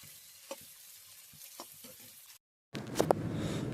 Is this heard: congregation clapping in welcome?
no